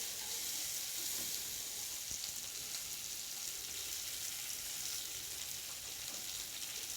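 Small shallots and dried red chillies frying in a pan, a faint, even hiss of sizzling oil that holds steady throughout with only slight stirring, no voices.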